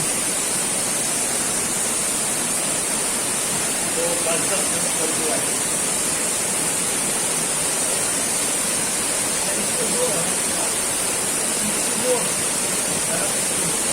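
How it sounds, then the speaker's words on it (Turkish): A waterfall heard from the hidden space behind it, under a bridge in Aladağlar National Park near Yahyalı, Kayseri: a loud, constant, broad rushing roar with no break throughout. "Şelalenin arkası."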